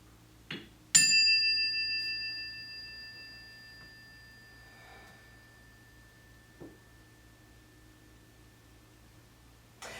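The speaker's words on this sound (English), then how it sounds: "Let's see if we can stay here and listen to that chime." A single chime rings once during a yoga balance pose, a bright metallic strike whose clear tone sustains and slowly fades over several seconds in a quiet room.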